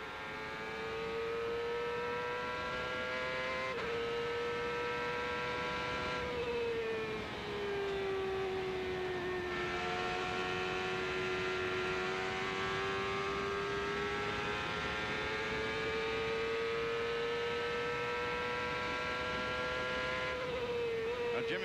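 A CART race car from the 2000 season at Madison, heard from on board with Jimmy Vasser, holds a loud, sustained high-pitched engine whine. The pitch dips and climbs through gear changes and throttle lifts, and no voices are heard.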